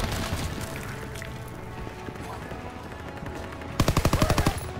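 A Call of Duty WW2 anti-aircraft gun lets loose a fast, loud rhythmic string of heavy shots near the end, after a stretch of busy combat noise and distant gunfire.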